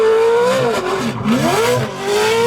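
A Toyota TRD drift truck engine revs loudly, the pitch climbing, dipping and rising again in one sustained roar with no voices.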